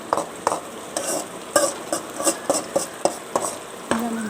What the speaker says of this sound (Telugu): ఇలా మంచిగా ఫ్రై చేసుకోవాలి.